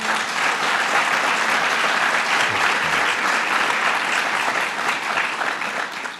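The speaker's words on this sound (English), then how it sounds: "Let's give him a round of applause." Dense, sustained applause from an audience at the CUNY Graduate Center, loud and even from start to finish, with a few voices faintly mixed in.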